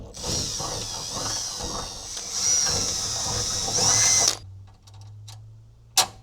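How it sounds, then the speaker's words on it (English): A power drill bores a hole into the body of an EK Civic hatchback, whining loudly and steadily for about four seconds before stopping, followed by a short, sharp tool sound. "we can start drilling out the hole for where this little bracket will go"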